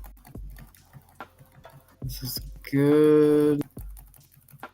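Someone types a search into a computer keyboard, a few soft clicks near and far apart, under a brief spoken word and a loud sustained tone.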